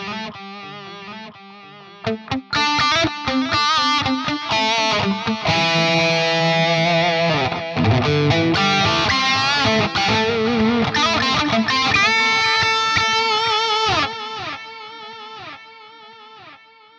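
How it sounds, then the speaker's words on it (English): Distorted electric guitar chugs through a default delay effect on a Neural DSP plugin, played as rhythmic palm-muted bursts and chords. Loud, trailing echoes repeat, and the last notes fade into the delay tails. "So what I'll do is I'll just throw the delay on, and we'll have a little chug on that."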